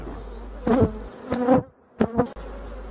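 Honeybees buzz around an opened hive in close, loud bursts, several short passes of droning wings separated by brief quiet gaps.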